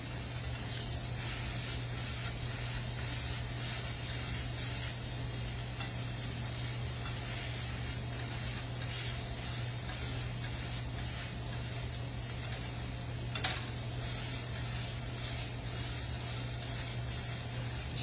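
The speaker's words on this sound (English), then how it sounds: "I'm trying to flatten them out so they fit the biscuit better" Sausage patties frying in a skillet while being pressed flat, a steady hissing sizzle throughout with a faint hum underneath and one brief scrape of the spatula.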